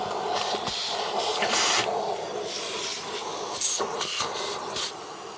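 Henry vacuum cleaner working inside a barn on an old twin-cam British sports car, giving a loud steady hiss of suction with bursts and surges as the nozzle moves, up close.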